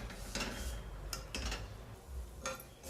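Vermicelli and cashews sauté in ghee in a pan for sweet kheer, a faint soft sizzle with occasional scraping and stirring clinks of a spoon against metal, close but quiet, no talking.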